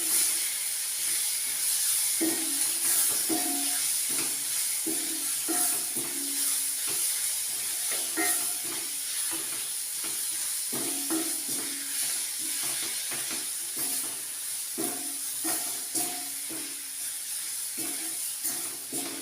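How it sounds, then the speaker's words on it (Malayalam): Chillies fry in a pan for tomato chutney, giving a steady hiss and sizzle broken by frequent small scraping stirs, close and moderately loud with no talking. "ഈ മുളക് അതിലൊന്ന് മൂത്ത് വരുന്നത് വരെ നമുക്കൊന്ന് വറുത്ത് കൊടുക്കാം."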